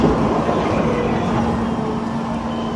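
A train rolls past in Kaohsiung, Taiwan, a steady loud rumble with a sustained hum, close and continuous, with no talk.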